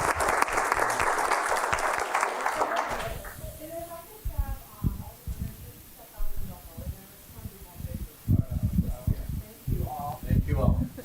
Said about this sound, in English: just like a big applause for all the winners